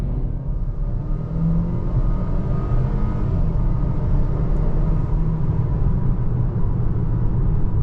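A 2021 Volvo XC40 Inscription in automatic, a small car of about 200 horsepower, accelerates up a hill toward 25, heard from inside the cabin as a steady, fairly loud low engine and road rumble.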